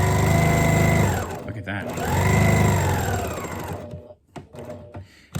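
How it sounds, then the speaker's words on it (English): A sewing machine stitching down the pocket edge of a scarf face mask hums in steady runs that pause and restart, close and loud, with a person briefly speaking near the end. "I do want to stitch this edge of the pocket down"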